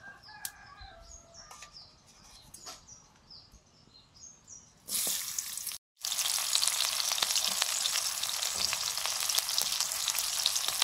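Hot mustard oil for a fish curry sizzles loudly and steadily in a pan, starting abruptly after a quieter stretch with a rooster crowing faintly in the background.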